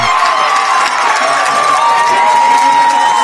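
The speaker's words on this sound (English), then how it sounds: "The crowd on the sideline going nuts." Crowd on the sideline of a high school semifinal football game cheering and shouting after a touchdown, a loud continuous roar of many voices.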